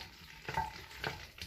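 A pan of food being stirred over the heat, with a soft steady sizzle broken by a few distinct scraping strokes of the utensil, close and fairly quiet.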